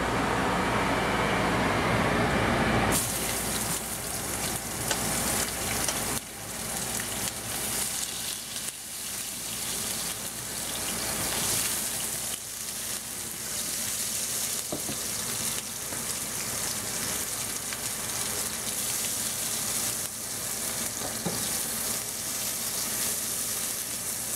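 Pork sausages fry in a pan with a steady, close sizzle that starts after a brief quieter opening and runs continuously, with occasional clinks and stirring sounds mixed in.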